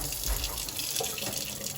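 Water drains steadily from a steam boiler converted to hot water as it is emptied, a continuous close rushing and trickling flow with no voices.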